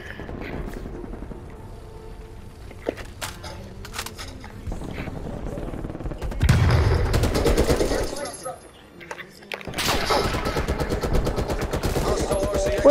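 Gunfire in Call of Duty: Black Ops Cold War, loud bursts of automatic weapon fire in rapid, dense volleys broken by a short lull, with a player talking over the shooting.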